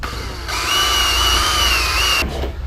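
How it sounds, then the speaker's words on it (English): A power drill whines steadily for about two seconds while boring a hole through an aircraft cowling, starting and stopping abruptly, loud and close over a low workshop rumble. "just drill right through there"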